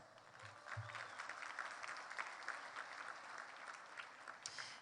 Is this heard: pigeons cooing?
no